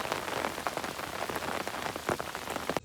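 Steady rain patters on a surface outdoors during a ball-set fishing trip, dense and continuous with scattered heavier drops and no talking.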